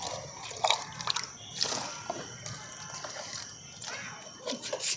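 Rotted oilcake water is poured onto a dragon fruit plant in soil, giving faint irregular splashes, drips and trickles, quiet and close with no talking.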